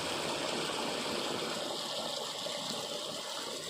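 A steady, loud rush of water gushing from a pipe on a farm, pouring without a break, close by and filling the whole clip.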